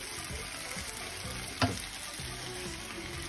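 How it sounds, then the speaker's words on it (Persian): Chicken liver frying in a spoonful or two of oil in a pan, a steady close sizzle throughout with one brief sharp clink partway through. "جگر مرغ سرخ کنیم"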